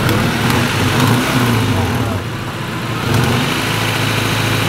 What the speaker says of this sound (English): now we're gonna rev it up and try and get it to operating temp